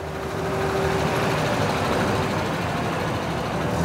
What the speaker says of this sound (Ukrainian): Ближче до 11-ї колона автівок рушає вулицею Сумською до Майдану Свободи.